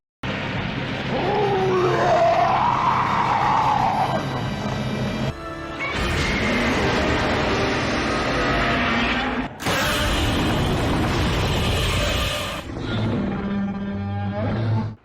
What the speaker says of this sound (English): American Godzilla films and TV shows used their own audio, even going as far as to mix their own Godzilla roars.